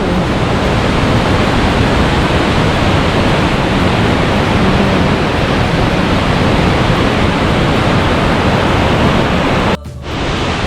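Rushing water at Khlong Lan waterfall roars loud and constant under tree cover, a dense unbroken wash that cuts off abruptly just before the end.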